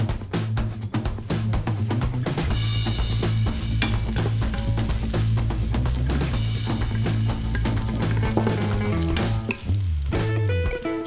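Ginger slices frying in a little oil inside a smart slow cooker, a steady close sizzle and crackle running continuously throughout, with no talking.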